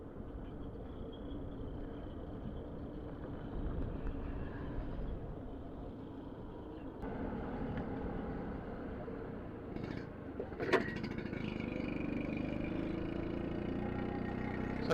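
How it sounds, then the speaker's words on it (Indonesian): Vespa scooter engine on a slow ride along a road, a low steady hum at moderate distance that swells slightly, with a brief sharp clatter near the end. "saya bawa motornya pelan-pelan gitu"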